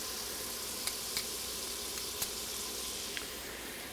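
Crushed garlic sautés in an Instant Pot with a steady, soft sizzle and a few small pops and clicks on top, and no voices.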